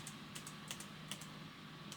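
Key presses on an Aorus 16X gaming laptop keyboard, the Fn and space keys, giving a handful of quiet, crisp plastic clicks spaced irregularly over a low steady hum.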